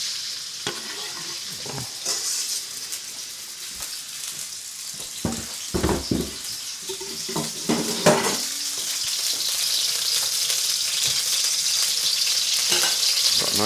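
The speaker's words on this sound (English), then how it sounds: "Got a nice little sizzle already." Chicken pieces frying in oil in a wok over medium heat for chicken chow mein give a steady, close sizzle, with scattered scrapes and clinks of stirring that grow denser toward the end.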